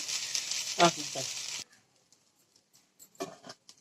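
Rice sizzling and frying in a pan for a simple sauce-free fried rice, a steady hiss in the first half with a few stirring knocks, then near silence broken by short clinks and scrapes.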